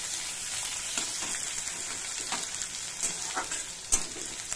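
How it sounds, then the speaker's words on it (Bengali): Chopped onion fries in a pan over lowered heat, a dense, even sizzle up close, with light stirring clicks and one sharper knock near the end and no voices. "পেঁয়াজ কুচি, হালকা করে এটা ভেজে নেব।"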